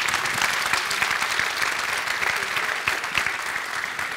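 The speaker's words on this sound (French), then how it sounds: "On peut également les applaudir, s'il vous plaît" At a Master Finance graduation ceremony, a large audience gives loud, sustained applause, thick continuous clapping from many people throughout.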